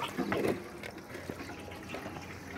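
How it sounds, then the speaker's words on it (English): Water gushes and trickles out of a homemade toilet pipe in a short, close, splashy burst that settles into a steady flow. "Oh, you can probably see the water coming out."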